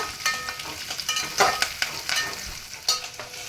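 Whole spices and curry leaves frying in hot oil in a pan for bagara rice, with a steady crackling sizzle broken by sharp pops and spoon stirs, close and alone with no voices.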